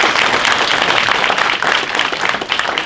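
A crowd applauds continuously: dense, steady clapping that stays loud and even from start to finish, with no pauses.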